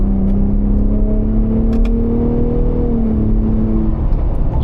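A Gen 3 Ford Raptor with its factory exhaust in sport mode holds a loud, steady engine drone that rises slightly in pitch after a manual downshift to fourth gear, heard from inside the cab.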